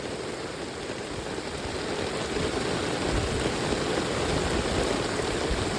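Heavy monsoon rain over rice paddy fields in Konkan during transplanting, a dense, steady broadband wash that stays loud and unbroken throughout with no voices.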